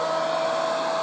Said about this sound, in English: use a good old fashioned hairdryer. Gently wafting it.